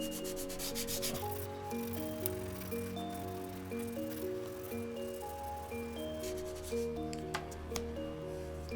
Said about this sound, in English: Continuing to use the side of the chalk here for the remainder of the mapping of this cylinder.